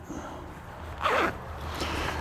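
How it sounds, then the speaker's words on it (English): A heated jacket pocket is zipped shut with one quick, close zipper pull rising over a quiet room background. "We'll zip this back up."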